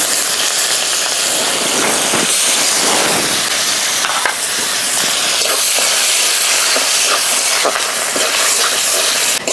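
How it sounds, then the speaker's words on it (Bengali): Chopped onions fry in a pan with whole cumin for a mutton curry, hissing loudly and steadily up close, with occasional stirring scrapes breaking through the sizzle and no speech. "পেঁয়াজটা ভালো করে ভাজা হয়ে গেছে"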